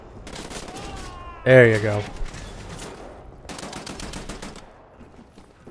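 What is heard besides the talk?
gunfire in the video game Wolfenstein: The New Order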